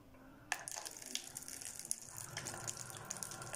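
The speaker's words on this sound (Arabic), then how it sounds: "وسأفتح صنبور الماء حتى أحسب اللترات على كوب القياس" Water from a tap runs into a measuring cup, a steady splashing stream that starts abruptly and continues with faint clinks, quiet and close.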